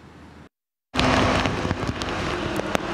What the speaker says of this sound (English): In pouring rain and near freezing temperatures